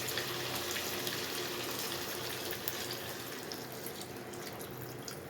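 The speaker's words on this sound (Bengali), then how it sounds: "এরপরে আমি মাংসটার মধ্যে জলটা অ্যাড করে দেব" Water streams into a pot of chicken curry meat with potatoes, a faint continuous pouring and splashing that runs steadily with small drips near the end.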